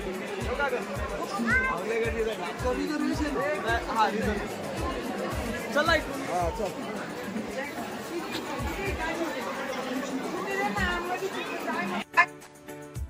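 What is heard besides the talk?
crowd chatter at a train station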